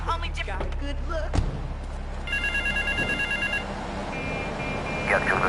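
A telephone rings in GTA 3, a repeated electronic ring tone in short bursts under background game noise and talk.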